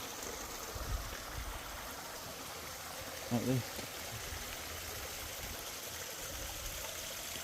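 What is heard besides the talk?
spring water flowing from a fountain under a church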